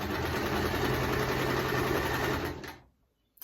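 A sewing machine stitching fabric runs in a loud, steady mechanical whir close by, then winds down and stops near the end.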